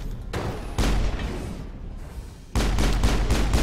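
Sniper rifle fire in the Mass Effect video game: two sharp, heavy shots several seconds apart, each followed by a lingering booming tail, loud and close with no talking.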